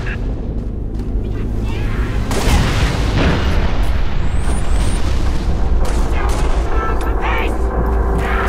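Artillery fire mission in Halo Reach: a dense barrage of booming detonations and gunfire rolls on continuously, loud and close, with distant radio voices under the blasts.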